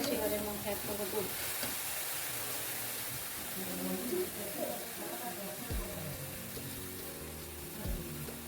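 Milk goes into a pan of fried carrots for carrot halwa, making a faint, steady sizzle with occasional stirring scrapes. A voice talks over it at times.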